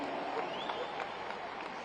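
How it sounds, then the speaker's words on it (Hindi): An audience claps steadily at a live Hindi poetry recital in Raipur, a dense, moderately loud patter of many hands with faint voices mixed in. "ताली बजाओ, सांस लेना है।"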